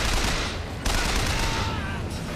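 Sustained enemy gunfire in the shooter Bioshock Infinite, a dense rattle of overlapping shots that barely lets up, with a sharp renewed burst partway through.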